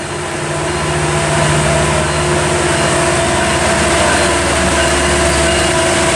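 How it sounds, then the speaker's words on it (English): Metrolink train led by engine 912 rolls into a Fullerton station, a loud, sustained rumble with steady tonal engine drone that builds slightly at the start and then holds. "our first engine we see is 912 coming our way on this Metrolink"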